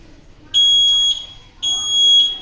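A smoke detector buzzer from a school anti-smoking project sounds in two loud, shrill electronic beeps, each about half a second long, separated by a short gap, with no speech over it.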